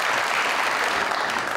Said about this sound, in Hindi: तशरीफ रखेंगे बहुत सारी तालियों में।